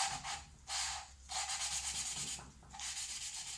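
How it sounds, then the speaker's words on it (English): Gritty rhythmic rubbing strokes as a Mercruiser engine valve is lapped with grinding compound, back and forth in short bursts, a dry scratchy grinding sound close up and fairly quiet. "it'll get more of that valve grinding compound as well as some of the stuff that's grinding up"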